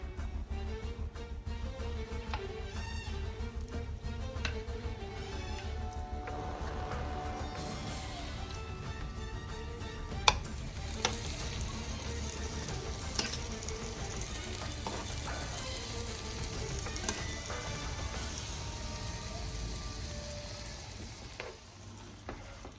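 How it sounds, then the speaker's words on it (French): Marinated chicken pieces browning in a pan with a little olive oil, a continuous close sizzle with occasional clacks and stirring scrapes, no talk. "on va le faire revenir dans une poêle avec un petit peu d'huile d'olive"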